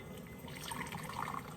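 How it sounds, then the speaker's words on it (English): Hot water poured from a one-cup measuring cup into a bowl for making Jello, a steady, soft trickling splash that runs nearly unbroken for a moment and swells slightly near the end. "here's my 1 cup of hot water, and I'm gonna pour that into my bowl."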